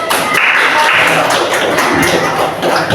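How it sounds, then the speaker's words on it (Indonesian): A classroom group in an Indonesian teacher-training session gets loud, dense, close applause from many hands, continuous clapping that lasts the whole three seconds without speech. "kasih tepuk tangan untuk kelompok"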